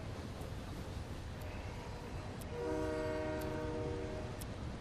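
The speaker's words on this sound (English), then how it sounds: "Oh, stop honking, stupid train." A passing train sounds its horn in a sustained, moderately loud blast that starts midway and holds to the end, over a steady rumble of rail noise, with faint clicks above.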